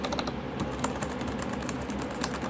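Fast, continuous typing on a TG3 mechanical keyboard with heavy linear switches: dense, close clacks in an even rhythm, with no voices.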